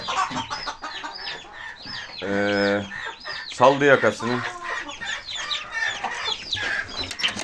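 Hens cluck and squawk inside a chicken coop where a hen has abandoned her chicks, with close, busy calls and a few loud outbursts while a person speaks briefly.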